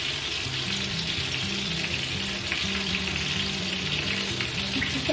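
Chicken kabab pieces fry in a pan with a steady, close, unbroken sizzle that holds at an even level from start to finish.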